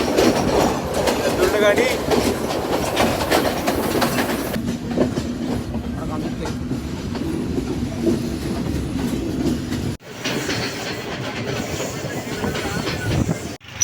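A moving train on a Sri Lankan line rumbles and clatters loudly throughout, a continuous close roar of wheels on rails with a brief break near the end and faint voices under it.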